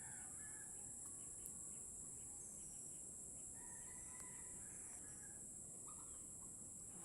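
A rooster crows faintly in the distance over a steady hiss of ambient outdoor noise, with a few other distant calls.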